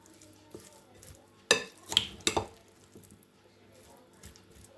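Salad dressed with oil, salt and lemon juice being tossed, a few quick wet stirring and clinking strokes close by in a quiet kitchen.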